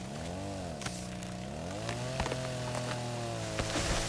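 A chainsaw in the video game Rust drones and shifts pitch as it cuts through wood, its engine note rising and falling under scattered crackling and thumping chips, with no speech.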